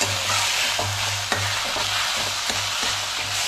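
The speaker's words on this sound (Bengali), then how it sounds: "পেঁয়াজটাকে কমিয়ে দিয়ে এটা ফ্রাই করতে হবে" Onions fry in a pan for palak paneer, a dense, even sizzle with a few faint stirring knocks beneath it.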